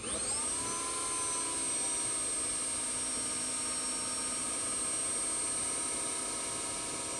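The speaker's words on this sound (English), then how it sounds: "Our Model 3 drive unit spinning with open inverter, fully buttoned up." A Tesla Model 3 electric drive unit with an open inverter spins up on a test setup, giving a steady, loud whine with high tonal lines and a broad rushing hum that holds evenly throughout.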